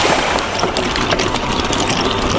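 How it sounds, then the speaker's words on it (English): Water rushes and splashes steadily as a walker fords a river on foot on the Welsh coast-to-coast route, a loud close churning wash throughout. "Extreme river crossing."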